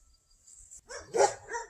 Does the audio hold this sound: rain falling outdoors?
no